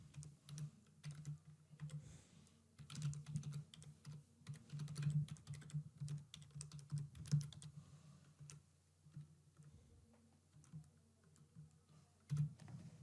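Someone types a book title on a computer keyboard, with quiet, close key taps arriving in uneven bursts and short pauses throughout, and no voices.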